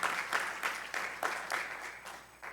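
Scattered hand claps ring out in a loose, uneven rhythm, a small group applauding with no voices over it.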